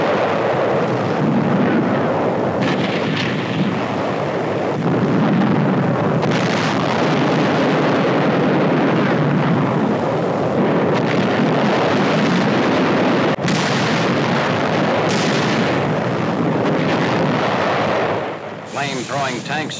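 Heavy 77mm gun fire from a 1945 Pacific War battle, with tanks advancing on hidden enemy positions, recorded as a loud, continuous wash of booming blasts and battle rumble throughout, easing off only at the very end.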